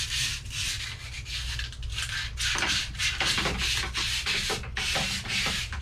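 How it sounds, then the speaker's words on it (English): Sandpaper rubs steadily over a pole spear in a light sanding pass before painting, a close, continuous scratchy hiss with repeated back-and-forth strokes and no voices. "Just gotta give it a nice light sand in order for the paint to adhere."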